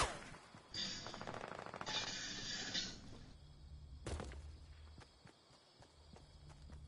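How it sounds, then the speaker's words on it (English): Video game gunfire aimed at the player: several sharp bursts of shots and rattling impacts over a low rumbling background, fairly close, with no talking. "Oh, they're shooting me, Lincoln."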